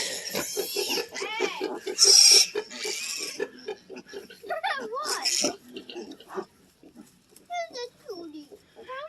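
Baby piglets on a farm squeal in loud, high bursts, crowded together with grunts and oinks, close by, while a person talks among the noise.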